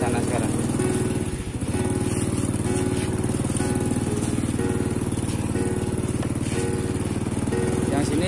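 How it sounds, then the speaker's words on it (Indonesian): A motorcycle engine runs at a steady, close, loud drone while hauling a load of tobacco at night, a continuous rumble with one brief dip near the start. "Saya pakai motor."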